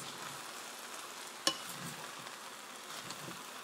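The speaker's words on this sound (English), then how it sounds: "go ahead and turn that rice" Haitian rice with canned kidney beans being turned in a pot over medium-low heat: a steady soft sizzle and hiss throughout, broken by one sharp spoon scrape or click partway through.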